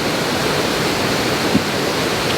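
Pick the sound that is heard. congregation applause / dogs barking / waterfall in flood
waterfall in flood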